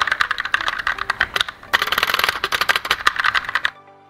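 Someone types quickly on a Rexus mechanical keyboard with tactile brown switches, giving a dense, close, continuous patter of keystrokes that stops just before the end.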